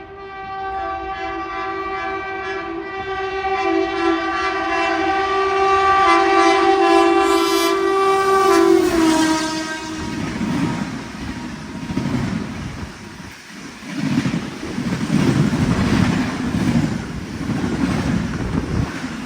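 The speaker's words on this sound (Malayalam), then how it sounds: "ഒരു ഓവർടേക്കും കൂടി ഉണ്ട്, ശ്രീശക്തി എക്സ്പ്രസ്." The Shri Shakti Express sounds a long, loud horn as it passes and overtakes the Jhelum Express, then its carriages rush by in a close, heavy roar with wind buffeting.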